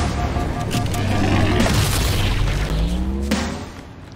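A rocket launcher explosion booms in Halo 2 on the Delta Halo mission, a loud sustained roar with rumbling low end that slowly fades away.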